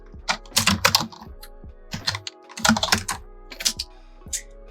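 Fingers type on a computer keyboard in quick clustered bursts of crisp, close keystrokes separated by short pauses.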